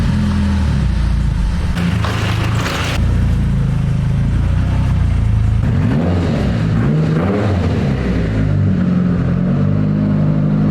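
A Mitsubishi Evo X engine running on a base map through a Haltech Elite 2500 ECU, a loud, steady idle with a few rising revs near the start and middle and no voices.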